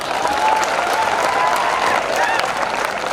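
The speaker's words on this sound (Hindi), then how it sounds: "बजाओ तालियां अपने।" An audience at a public gathering breaks into sustained applause, dense and loud clapping from a crowd that carries on steadily throughout.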